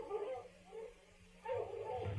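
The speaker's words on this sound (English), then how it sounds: "The dogs, Pa!" Hunting dogs on a bear chase yelp and whimper in short, excited bursts, fairly close, with a brief lull between two clusters of cries.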